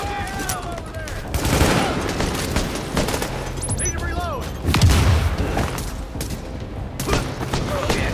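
Turret gunfire in the video game The Division, bursts of shots and booms with electronic effects, moderately loud, mixed with voices talking.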